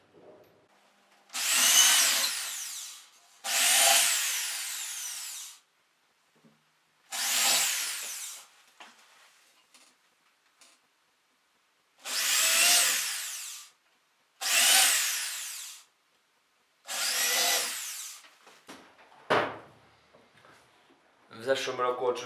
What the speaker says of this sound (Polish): 12 wkrętów będziemy potrzebowali i przechodzimy do wiercenia.